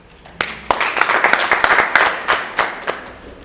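A group of people clapping at a welcome for a singer at a hotel in Gitega, Burundi, heard as a ragged burst of claps that swells and then thins out, fairly close.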